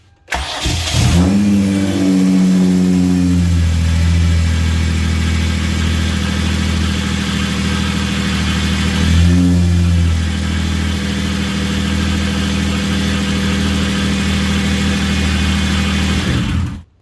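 A 2009 Hyundai Genesis Coupe 3.8 with a newly installed starter motor cranks and fires up with a loud rev. It then settles into a steady, loud idle, with a brief blip partway through.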